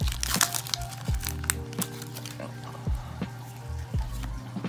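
Crinkly plastic foil wrapper of a Pokemon Evolutions booster pack being torn and opened, with repeated sharp crackles and crumpling bursts close up over a low background hum.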